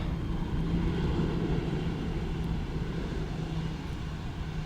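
An Airbus passenger jet arrives on runway 18R at Amsterdam Schiphol Airport, a steady, broad engine roar with a low hum that holds at even loudness throughout, with no talk.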